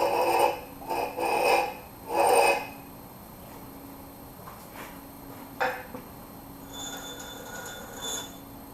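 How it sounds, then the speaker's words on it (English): A blacksmith's pritchel tip is ground square on a belt grinder, giving repeated bursts of rasping, squealing grind at first, then a quieter steady whir with occasional brief contacts. "I'm going to finish squaring and sizing that tip up with the flat side, or the hard side"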